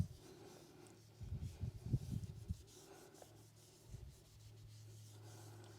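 An applicator rubs ceramic coating across the front face of aftermarket painted wheel spokes with a slightly rough finish, giving soft, close scuffing strokes in bursts, quieter toward the end, with no talking.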